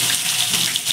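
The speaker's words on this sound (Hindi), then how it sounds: "अब प्याज डाल देंगे हम इसमें।" Onions hit hot oil in a pan while cooking macaroni, giving a loud, continuous hissing sizzle for about a second with no talking.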